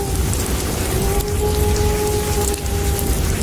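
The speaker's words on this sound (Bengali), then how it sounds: "এদিকে তুমুল বৃষ্টি, বজ্রপাতের ঝলকানি আর তীব্র বাতাস" Heavy rain pours steadily on a stormy night, a dense close hiss of drops with a low rumble beneath, loud and continuous, no voices.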